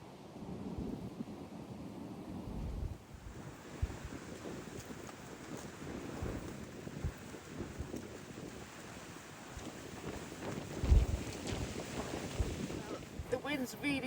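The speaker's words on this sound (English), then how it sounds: "The wind's really picked up and therefore the wind chill" Strong wind blowing outdoors on an upland walk along the Weardale Way, rough low buffeting noise across the microphone with uneven gusts and occasional thumps, continuous and fairly faint overall.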